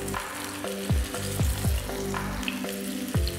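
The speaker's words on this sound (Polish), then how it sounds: "Oliwa już rozgrzana i wkładamy nasze uformowane kotleciki z bobu" Broad bean patties sizzle in hot olive oil in a pan, a dense continuous frying crackle broken by several soft knocks and clinks as they are placed and turned, close and steady with no talking.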